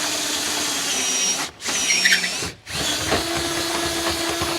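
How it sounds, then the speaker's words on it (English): A power drill with a 3/8 bit enlarges holes while fitting an RV jack stabilizer kit, whining loudly in three bursts separated by two short pauses, close and sustained. "we're going to come back with our 3/8 drill bit and enlarge these holes"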